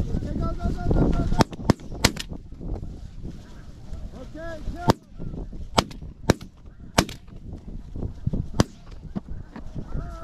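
Shotgun shots fired at snow geese during a spring hunt, several sharp cracks spread through the clip amid honking flocks of geese, with people talking now and then.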